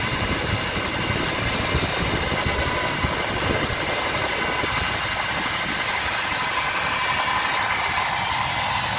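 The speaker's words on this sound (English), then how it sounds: "I got a little bit of a noisy pump." 1965 Ford Thunderbird engine running with a noisy pump, a steady, close, loud idle with continuous rumble and a constant high whine on top.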